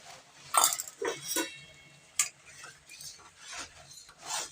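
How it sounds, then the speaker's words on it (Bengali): Eggs dropped into a pan while cooking Bengali egg curry, with light clinks and scrapes of utensils, a few soft splashing hits and faint sizzling close by. "বন্ধুরা এবার ডিমটা ফেলে দেবো"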